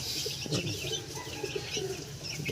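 Chickens being fed in the morning, with soft clucks and coo-like calls repeating over a steady outdoor background, moderately close and without talk.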